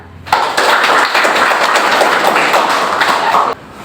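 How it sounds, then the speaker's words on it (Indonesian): A classroom of students applauds a presenting group, giving about three seconds of dense, loud, steady clapping from many hands that starts and stops abruptly. "kita berikan tepuk tangan kepada kelompok 2 yang sudah mempresentasikan hasil diskusi"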